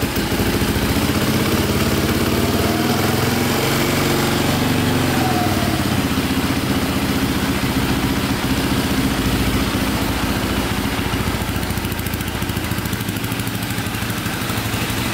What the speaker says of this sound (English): Idling pretty good.